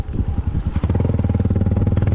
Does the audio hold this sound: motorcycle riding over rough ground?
yes